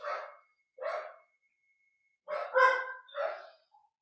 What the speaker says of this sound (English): Just waiting to see if my dogs are going to stop barking.